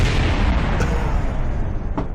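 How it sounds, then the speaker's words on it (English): Explosions in the video game Kerbal Space Program form a loud, continuous rumbling barrage with a few sharper bursts standing out, and no voices are heard. "That was explosions all over the place."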